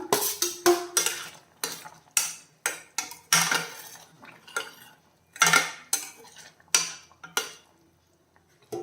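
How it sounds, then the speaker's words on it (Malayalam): Metal spoon scrapes and clanks against a pot in a steady series of short strokes as fried okra is stirred into curry, close by, with no voices. "ഇനിയിപ്പോൾ ഇതിൽ നമ്മൾ വറുത്ത് വെച്ചിരിക്കുന്ന ഈ വെണ്ടയ്ക്ക് ഇട്ട് കൊടുക്കാം"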